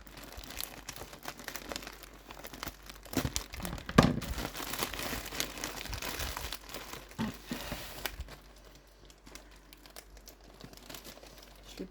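Plastic packaging of a Temu scrapbooking parcel crinkles and crackles close by while being tugged open, with a sharper rustling burst around the middle before the handling quiets down.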